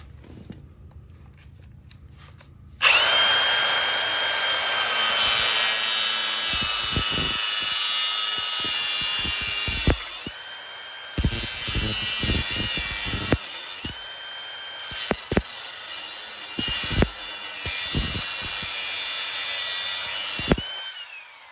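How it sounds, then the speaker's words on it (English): Angle grinder cutting metal on a 2017 Kawasaki KX450 dirt bike, a loud continuous whine that starts abruptly and runs steadily, broken by brief pauses and restarts, with the disc catching and jumping near the end. "The grinder kind of flew up into the bottom of this arm."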